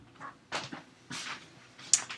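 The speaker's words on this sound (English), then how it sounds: "Shut the door here." Indoors, a door is shut with a few quick soft knocks and clacks spread over two seconds, close and fairly quiet.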